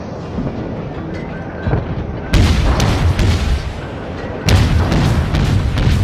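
Warship guns fire in the World of Warships video game: deep booms that each run into a long rumbling tail, with two big salvos standing out over steady background rumble, loud and close.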